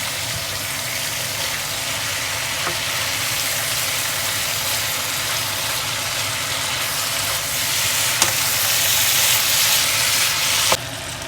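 Bhindi, onion and capsicum frying and being stirred in masala, giving a steady, close sizzle with occasional faint scraping clicks and no talk.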